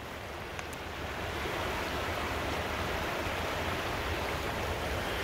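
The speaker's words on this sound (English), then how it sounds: "as we hear the river" A river flows in a steady, broad rush of water that stays even and continuous throughout, with no voices.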